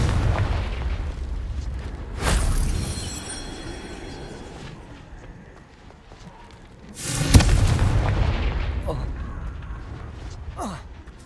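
Two loud, booming blasts of the Confringo blasting spell in Hogwarts Legacy, each a sharp broadband burst with a rumbling tail, spaced several seconds apart over a low ambient bed, with a voice speaking at points.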